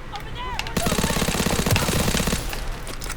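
Automatic gunfire from a World War II shooter game, Call of Duty WWII, a sustained burst of rapid shots up close with game voices and effects around it.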